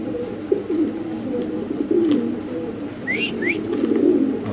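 A male pigeon coos in low, repeated throaty calls close by, with a couple of short bird chirps and faint background noise.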